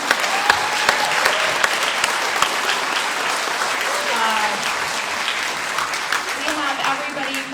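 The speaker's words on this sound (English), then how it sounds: "And you can give them a round of applause." Sustained audience applause at an art and poetry celebration, steady dense clapping from a sizable crowd filling the whole stretch, with a few voices faintly audible beneath.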